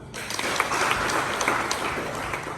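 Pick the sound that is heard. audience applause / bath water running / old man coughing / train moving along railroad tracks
audience applause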